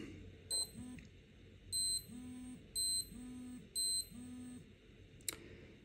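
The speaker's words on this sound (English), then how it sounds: "it beeps and vibrates on every second until we get to the" Countdown timer beeping once per second, four distinct evenly spaced electronic beeps, each paired with a low vibration buzz, fairly faint against quiet background, followed by a short click.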